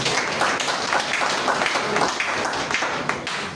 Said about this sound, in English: Let us please give a round of applause.